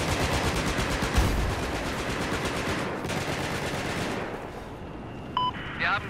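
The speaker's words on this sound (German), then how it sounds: "ja, ich höre die Schüsse" Rapid gunfire rattles in a Battlefield 4 match, a dense stream of shots with a few brief electronic beeps near the end and faint background game noise.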